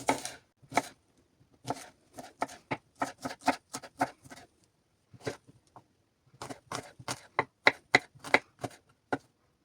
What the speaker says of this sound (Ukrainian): Дрібненько її нарізаю.